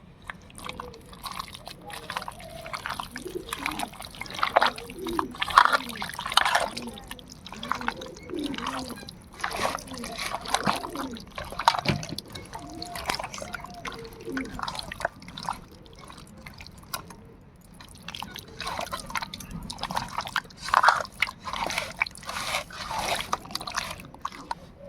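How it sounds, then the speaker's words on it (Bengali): Hands mix spice-coated desi chicken pieces for a marinade, making close, irregular wet squelching and sticky smacking sounds in a continuous uneven rhythm. "এবারে মাংসের সঙ্গে ভালো করে মাখিয়ে নেব।"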